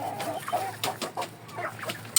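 Indio Gigante and Oshamo chickens fighting, with scattered clucks and short squawking calls coming in uneven bursts at moderate volume, fairly close by.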